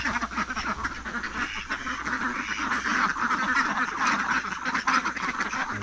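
A flock of ducks being herded quacks continuously and loudly, many overlapping nasal calls close by, with a faint voice in the background.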